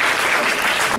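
An audience claps loudly and densely at a school award ceremony, a continuous full burst of applause with no voices.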